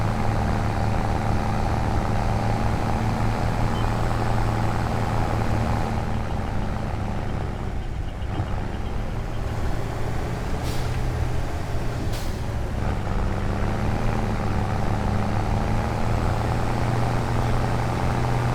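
A Mercedes tractor engine holds a steady, loud drone near 80% load, its low hum unbroken for the whole stretch, with a couple of brief higher hisses midway and no voices.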